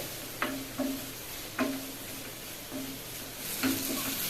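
Onions with green chilies and salt stirred in a pan for poori masala, a soft low sizzle punctuated by several distinct spatula knocks and scrapes.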